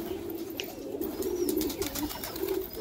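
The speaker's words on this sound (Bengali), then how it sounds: "দেখুন বন্ধুরা, পায়রাগুলো দেখুন" Domestic high-flying pigeons coo in a steady, low, continuous murmur close by, with a few faint chirps over the top and no voices.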